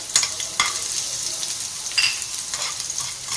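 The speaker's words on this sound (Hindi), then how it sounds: "और इसमें जो हमने लहसुन था चॉप किया हुआ वो हमने डाला है।" Chopped garlic frying in hot ghee or oil in a pan, a steady bright sizzle with small crackles and stirring scrapes. It is close and continuous, with no talk.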